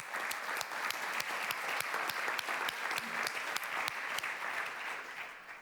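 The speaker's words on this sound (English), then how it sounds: "Round of applause, please, Christina." A conference audience claps in a sustained round of applause at a closing session, dense and steady handclaps filling the whole stretch at moderate level before tapering slightly at the end, with no talk.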